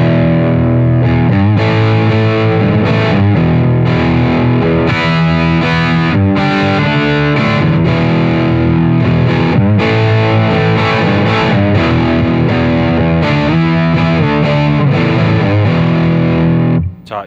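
Electric guitar played through a Bogner Ecstasy mini overdrive pedal with the variac switched off: loud, continuous distorted chords and riffs ring out steadily for the whole stretch, with no talking.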